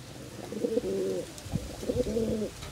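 Pigeons coo in two low, throaty rolling phrases separated by a short pause, close by and fairly soft, with no talking.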